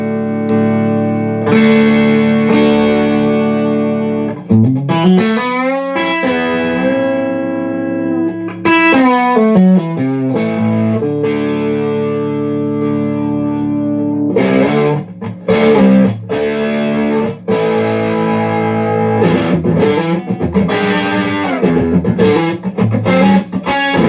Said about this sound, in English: the true sound of the guitar being amplified by a tube